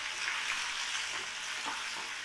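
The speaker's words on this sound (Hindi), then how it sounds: "ये जब तक भूनेंगे बिल्कुल जब लाल ना हो जाए" Chopped onions and green chillies fry in a pan with a steady, close sizzle and soft crackle, a few light stirring scrapes rising briefly above the even hiss.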